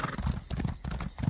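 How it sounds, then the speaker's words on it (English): A horse galloping in the video game Elder Scrolls Online, a quick, steady clip-clop of hooves close up, with a faint neigh mixed in. "The horse is really moving quite fast."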